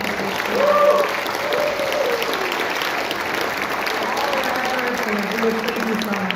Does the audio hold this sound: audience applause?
yes